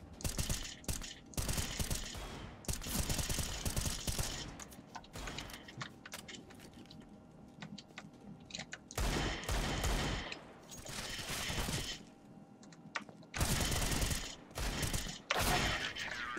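Gunfire in the video game CS:GO, repeated loud bursts of rapid shots separated by brief quieter gaps, with no speech over them.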